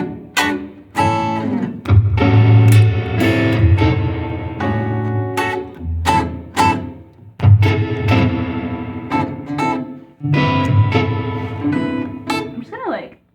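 An electric guitar drenched in effects and soupy, heavy reverb rings out loud and up close, with strummed chords and single notes that bloom and blur into one another. The playing comes in bursts, with a few short pauses between phrases.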